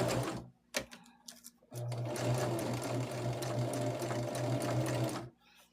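A sewing machine runs a steady quarter-inch seam on a patchwork pillowcase, a continuous close whirring burst of about three and a half seconds, preceded by a few brief clicks and handling sounds.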